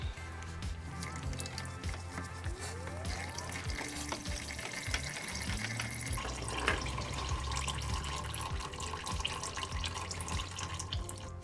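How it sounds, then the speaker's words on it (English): Old engine oil drains from a Yamaha Tenere 700 motorcycle into a pan, a steady close liquid trickle and splatter running continuously with small drips layered on top. "let all that old oil drain out of there"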